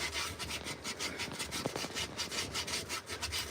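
A carved wooden spoon edge is worked by hand with sanding belts, giving a rapid, even back-and-forth rasping scrape in a workshop, close and steady with no talk.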